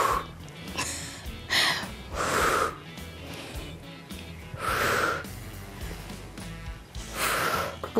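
Deep breathing during a shoulder and shoulder-blade exercise: about five loud, close, forceful breaths, each in or out lasting under a second, spaced at a slow steady rhythm.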